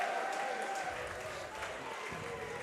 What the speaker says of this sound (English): let's give it a round of applause one more time for the DC Destroyers, coached by Barry Hunter